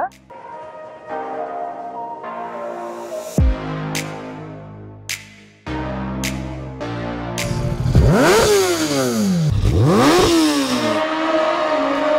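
A Kawasaki Ninja ZX-10R sport motorcycle engine revs in sharp repeated bursts, loud and close, rising to high-pitched sweeping roars as the throttle is blipped several times, with clattering and mechanical noise between revs.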